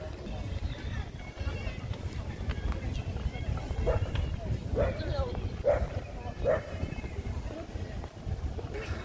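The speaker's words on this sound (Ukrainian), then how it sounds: "Растя гавкає." A dog barks several times in a short series near the middle, amid rustling movement and wind noise close to the microphone, on a stormy day in Arcadia, Odesa.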